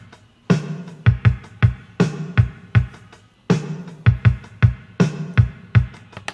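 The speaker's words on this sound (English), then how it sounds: "I used the Roland TR-707 preset on my TR-8S drum machine. So the beat that I programmed is something like this." Roland TR-8S drum machine playing a TR-707 preset beat: a punchy repeating pattern of kick, snare and hi-hat hits in a steady rhythm, loud and clean, with no talking.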